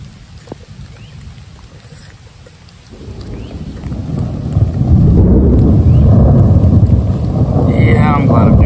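Thunder rumbles from lightning overhead during a storm in the Okefenokee Swamp, a loud, deep rolling roar building over heavy rain and lasting several seconds, close and dominant.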